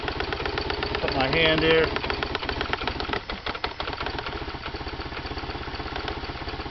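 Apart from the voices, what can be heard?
engine idling, throttle body noise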